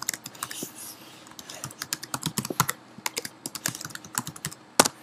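Computer keyboard being typed on, a quick irregular run of close, crisp key clicks with brief pauses, no talk.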